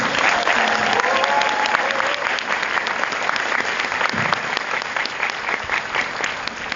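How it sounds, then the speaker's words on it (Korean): An audience at a one-day writing class applauds, dense sustained clapping that carries on for several seconds and slowly thins out toward the end. "자청PD님께 다시 한번 박수 부탁드립니다."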